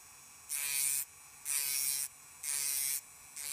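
Rotary polishing head grinding down the head of a regular screw for a Tamiya Mini 4WD car, four even buzzing bursts of about half a second each, separated by short pauses, close and fairly faint.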